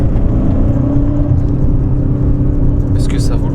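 A 90-horsepower car accelerates hard in second gear at about 47 km/h, its engine droning loud and steady from start to finish, with a brief higher-pitched whine near the end.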